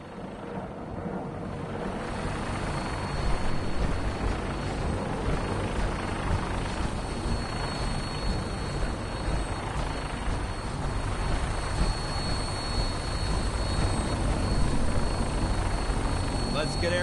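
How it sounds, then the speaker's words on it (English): A Vertibird aircraft from Fallout 4 roars with a loud, steady rotor and engine drone that holds for the whole stretch, with voices talking over it. "we have a vertibird on standby, fully armed and ready to depart"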